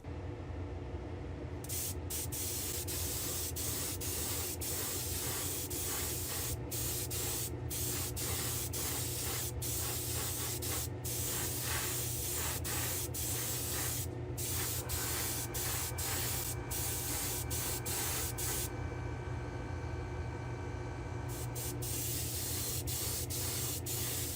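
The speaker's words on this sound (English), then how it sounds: "head back to the spray booth and we're going to give this a nice clear coat" A spray gun in a spray booth hisses steadily and loudly for a long stretch applying clear coat over candy paint, broken by a few brief pauses between passes.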